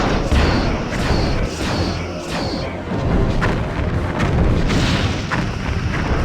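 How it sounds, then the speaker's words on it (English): Photon torpedoes fire in Star Trek Bridge Commander during a space battle against incoming fragments, a loud, continuous barrage of booming, thudding blasts and crashes layered over a dense rumbling game soundscape. "Lining up forward torpedo tubes."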